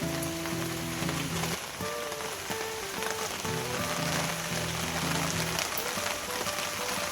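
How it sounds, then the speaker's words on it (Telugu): Steady rain falls on a cool day, a dense continuous patter of drops striking surfaces outdoors, loud and unbroken throughout with no talking. "ఈరోజు చల్లగా వర్షం పడుతుంది"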